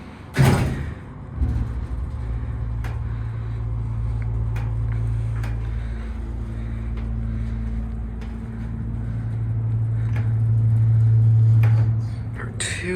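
A Lagerquist hydraulic elevator's motor drones with a steady low hum throughout, swelling slightly louder near the end, with a thump at the start and a few faint clicks.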